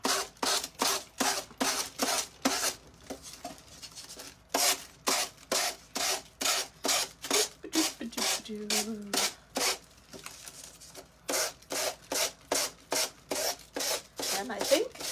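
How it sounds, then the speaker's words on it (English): Rhythmic scraping strokes of a block rubbed along wood, close and moderately loud, in bursts separated by short pauses. "sanding block and I'm just going down the edges at a really sharp angle"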